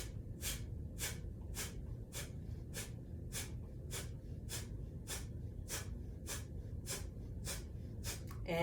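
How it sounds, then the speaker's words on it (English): Rapid breath-of-fire exhales forced sharply through the nose with the mouth closed, during a yoga session: about fifteen evenly spaced, crisp nasal puffs in a steady quick rhythm, close and clear over a low background hum. "It's that rapid exhale through the nose with your mouth closed, powering that exhale through your navel center like you're blowing your nose."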